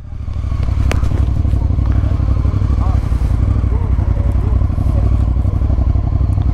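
A motorcycle on a touring ride through Pakistan rumbles steadily and loudly up close, a continuous low engine drone with wind buffeting and occasional clatter, with faint voices beneath.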